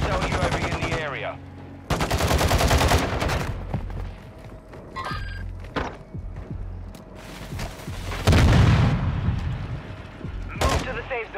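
Call of Duty battle royale gunfire, with loud bursts of automatic weapon fire and single shots coming in clusters, mixed with mechanical clanks, gear noises and a radio voice talking between the volleys.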